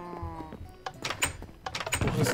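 A sheep in the video game Minecraft gives one short, wavering bleat close by, followed by scattered game clicks and thumps.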